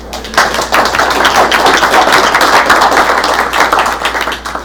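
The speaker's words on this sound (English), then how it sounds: "Let's give them a round of applause for it." Round of applause for presenters at a California freight advisory committee meeting, many hands clapping close and loud in a steady, dense patter that holds for several seconds.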